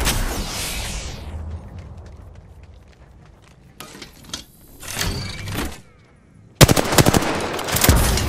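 Gunfire in the Apex Legends video game, with broadband bursts of shots separated by gaps and a loud, dense volley at the end, with no talk over it.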